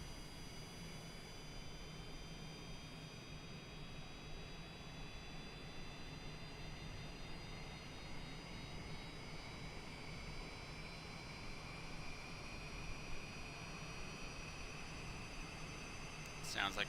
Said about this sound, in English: Sounds like a good start on engine 1.